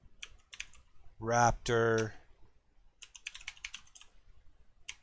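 Keys clicking on a computer keyboard as text is typed into a sign-design layer, with short bursts of taps before and after a spoken word.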